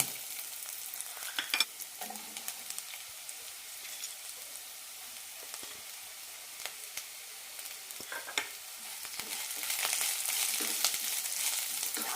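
Sliced onion and cabbage frying in a pan for cabbage chutney, a continuous close hiss and sizzle with occasional scraping stirs, growing a bit louder toward the end.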